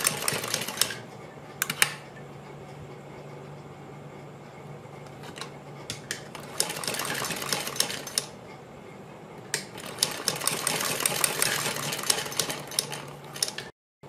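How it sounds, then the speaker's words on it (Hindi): A sewing machine runs in short stitching bursts as a fabric strip is sewn along a neckline edge, close and fairly quiet, with pauses between runs over a low room hum. "गले के बिल्कुल किनारे पर इस तरह से हम सिलाई लगाते चले जाएंगे"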